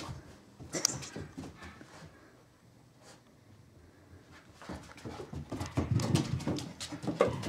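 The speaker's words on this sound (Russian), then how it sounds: "Собака." A dog whimpers and sniffs nearby in short, soft, irregular bursts with brief pauses, and the sounds grow busier and louder toward the end.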